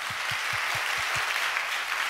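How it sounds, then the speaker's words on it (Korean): A church congregation at a Queens Presbyterian Church summer retreat applauds. The clapping is steady and full, with a faint even beat running through it. "우리 이 기회를 통해서 한번 박수로 한번 우리 귀한 분들을 축복하면 좋겠습니다"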